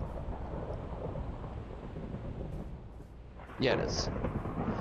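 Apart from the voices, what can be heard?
thunder from a lightning strike in the video game Minecraft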